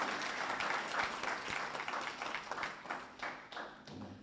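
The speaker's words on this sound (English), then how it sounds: "I want you to give yourself a round of applause" A crowd applauds, dense clapping that rises and falls unevenly, fairly faint and distant, with no speech over it.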